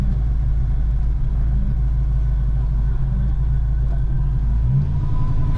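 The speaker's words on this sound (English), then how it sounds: "I pull up to the stop sign, car idles like it's supposed to" A 1K Fox car's engine idles steadily at a stop sign, a continuous low rumble held evenly throughout with a brief shift near the end, no talking.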